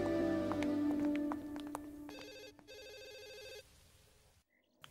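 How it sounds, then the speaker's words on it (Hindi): A telephone rings in repeated electronic trills, loud at first and then continuing more softly until it cuts off. "चित्रा, किसका फोन है देखो।"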